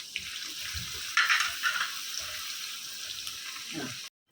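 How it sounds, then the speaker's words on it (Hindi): Curry leaves and onions frying in hot oil for a Goan coconut fish head curry, a steady close sizzle that swells into a louder crackling burst midway, with soft talk underneath. "अभी इसमें करी पत्ता डालेंगे, अच्छे से तड़कने देंगे। अभी प्याज डालेंगे"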